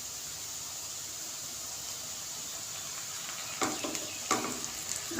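Chicken pieces fry in mustard oil in a wok with a steady, soft hiss. Toward the end a few louder clattering stirs break through the sizzle, close by, with no one talking.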